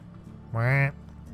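A single short nasal honk of geese in a medieval video game, rising briefly out of a quiet background hum.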